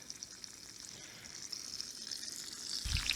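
Bacon frying in a camp skillet, a steady soft crackling sizzle close by that grows slightly louder toward the end, with a brief low thump at the finish.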